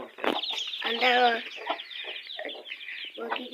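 Chickens cluck and squawk close by as they are let out of their coop, a run of short calls with one longer drawn-out cackle, while a person talks in the background.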